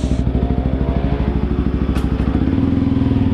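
Motorcycle fitted with an RSS standard-type WR aftermarket exhaust idles and revs, a loud, deep, steady rapid exhaust pulse with a booming tone that shifts lower near the end.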